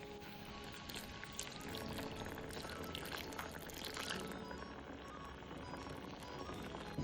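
Half a tumbler of water pouring steadily into a pan, a continuous splashing gush that thins out toward the end.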